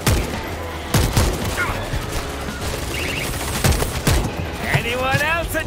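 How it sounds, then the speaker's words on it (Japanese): Bursts of automatic gunfire in World War Z Aftermath, a zombie shooter, with several sharp loud volleys and scattered shots amid game noise while players talk. "弾全部打ってきた、これ600発あんのいいな"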